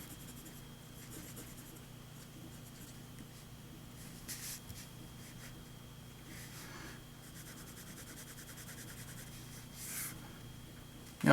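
Fountain pen nib scratching across a paper pad, inked with Noodler's Voltaire Candide Vermilion, a soft continuous rubbing with a few brief louder strokes, quiet and close.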